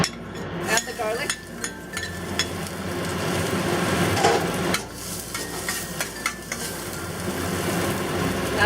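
Garlic sizzling in hot oil in a pan over medium-high heat, a steady close frying hiss with stirring clinks and scrapes of a utensil against the pan, no talk.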